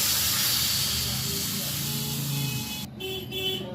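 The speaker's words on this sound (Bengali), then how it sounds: "এবারে আমি প্রয়োজন মতন জল দিয়ে দিচ্ছি।" Water poured into a hot pan of carrot, potato and poppy-seed curry sizzles with a steady broadband hiss that cuts off sharply near the end, leaving a quieter simmer with low kitchen noise.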